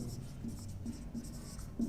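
Pen scratching on paper or a board while noting down a term in an economics lesson, soft and close with small repeated strokes, under a faint room hum.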